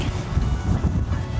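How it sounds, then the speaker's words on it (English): A strong wind blows at a disc golf course near water, roaring steadily as low, buffeting rumble against the microphone, with no one speaking. "It's a windy one."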